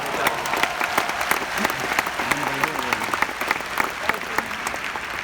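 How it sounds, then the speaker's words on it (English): Audience applause in a presentation hall, dense steady clapping from a crowd at moderate volume, sustained for the whole stretch with no talking over it. "That deserves a round of applause for the Colombians."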